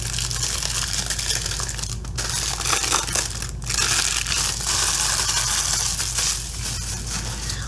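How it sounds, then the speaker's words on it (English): Plastic shrink wrap being peeled and crinkled off a video game case, a steady loud crackling and tearing rustle with a couple of sharper rips, close to the microphone with no talking. "So I'll take the plastic off there just like this."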